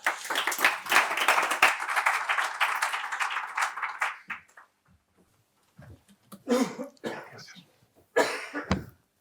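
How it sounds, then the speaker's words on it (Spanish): Audience at the opening session of an insolvency law course applauding a guest speaker tied to the Ministry of Justice, about four seconds of close, busy clapping, then sparse coughs and throat clearing. "les ruego un fuerte aplauso para él"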